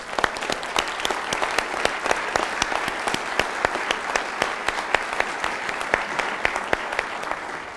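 An audience claps together in steady, sustained applause that fills the room at close range, with no one speaking over it.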